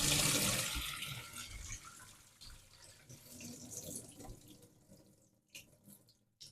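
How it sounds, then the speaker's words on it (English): Water mixed with detergent pours and tips out of a Pinter 3 home-brewing keg tap, a steady splashing flow that thins and sputters into a few last drips. "I'm happy to just up the pinter until the water tips out."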